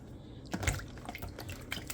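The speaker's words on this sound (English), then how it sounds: "you're gonna pour water on it after it cool down" Water poured over boiled saltfish in a kitchen, heard as a faint scatter of drips and small splashes, one fuller splash near the start, with no talking.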